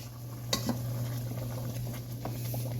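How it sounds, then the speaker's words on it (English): A spoon stirs marinara sauce in a pot at a low simmer, giving a soft scrape and a light clink against a steady background hum. "And give this sucker a stir"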